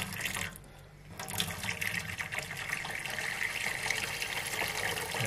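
Warm water pours and splashes into a container of quartz-dissolving solution, a steady close-up rushing trickle that begins after a brief quiet moment.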